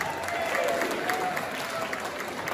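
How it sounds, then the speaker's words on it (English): An audience at an event in Miltown Malbay gives a round of applause, dense steady clapping that fills the whole moment, with a voice faintly audible through it. "give him a big round of applause"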